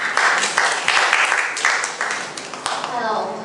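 An audience at a self-introduction meetup claps together in a steady burst of applause lasting several seconds, gradually thinning toward the end.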